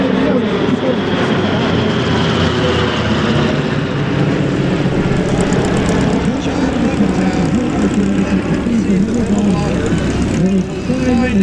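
An AC-47 Spooky gunship with radial engines flies past at an air show. A loud, steady propeller drone fills the whole stretch, with a voice on a PA narrating over it.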